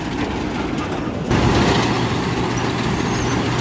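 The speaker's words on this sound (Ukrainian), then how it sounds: "Дуйка в тракторі зараз." Air blower fan on a tractor used for sowing sunflower and wheat starts up partway through, jumping to a loud, steady rushing roar that continues to the end.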